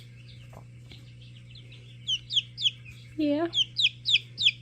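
Silkie chickens give a series of short, high clucks and chirps in quick rhythmic bursts, close by, over a steady low hum, with a person briefly speaking.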